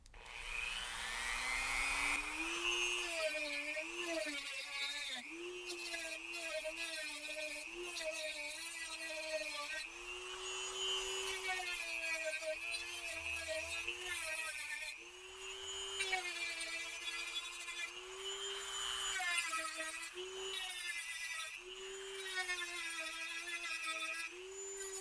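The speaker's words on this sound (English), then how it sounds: "you're going to sand down each of these little rings" A Dremel rotary tool sands down small metal rings during a GY6 engine swap assembly, with a high whining motor that dips and rises in pitch as it bites the metal, in long close bursts without talk.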